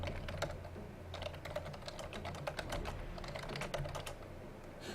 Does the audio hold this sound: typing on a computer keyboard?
yes